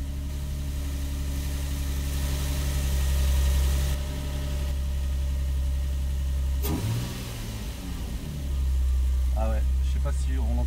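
A Nissan 350Z engine idles with a steady low rumble, recorded in the engine compartment, briefly revving and dipping, while a person talks nearby in the middle of the recording.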